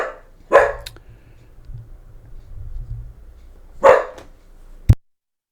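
A dog barks twice, a few seconds apart, each a single close bark over faint background sound, followed by a brief sharp knock.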